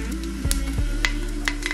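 Whole spices such as cinnamon, mace and star anise crackle in hot groundnut oil for chicken biryani, a steady close sizzle with a few sharp pops and a stirring clink.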